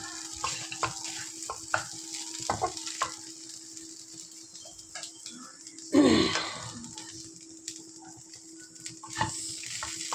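Cashews and raisins sizzle and crackle softly in a pan, a low steady frying sound with a sudden louder burst about midway as they hit the hot oil, then settling back to a gentle hiss.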